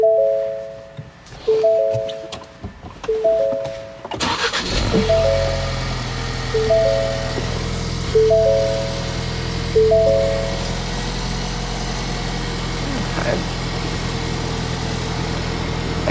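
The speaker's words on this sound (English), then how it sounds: "we're gonna go ahead and start the car" A series of repeated warning chimes, then a Ford Bronco Big Bend's engine cranks and catches, settling into a steady low idle that continues to the end.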